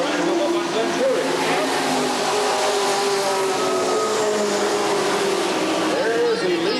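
Stock cars race around the Redwood Acres Raceway oval, a 1989 Buick Regal leading, their engines a loud steady drone throughout, joined by a commentator's voice.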